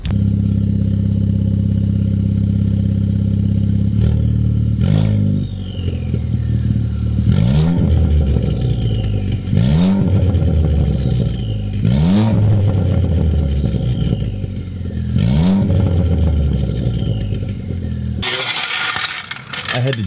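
A Ford Fiesta ST running with only the downpipe and no exhaust bolted up idles with a loud, deep rumble, then throttle blips rise and fall in four sharp revs, each surging and dropping back, close by.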